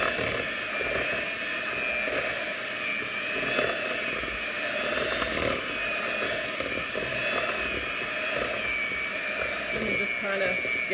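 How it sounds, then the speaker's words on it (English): A handheld electric mixer whirs steadily through buckeye pie filling for several seconds, a close, continuous high motor drone with slight wobble, and a voice faintly underneath. "I'm going to use a handheld mixer instead of doing it with the big mixer today"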